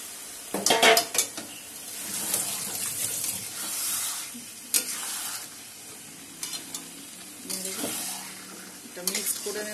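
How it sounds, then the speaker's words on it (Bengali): Chicken added to a yogurt mixture and stirred in a sizzling pan, with loud frying hiss, repeated clanks and scrapes of a utensil against the pan, and bursts of sizzle throughout. "দইটা একটু নেড়ে নিয়ে এবার চিকেনটা দিয়ে দেবো।"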